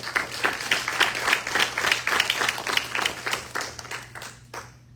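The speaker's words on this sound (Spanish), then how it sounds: "Denle un aplauso al Señor." Church congregation applauding together, a dense burst of clapping that swells and then fades out over a few seconds, fairly close.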